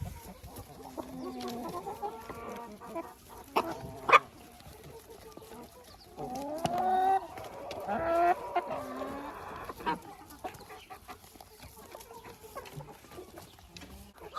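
Hens cluck and squawk nearby in scattered bursts, a few louder calls standing out over a quiet background.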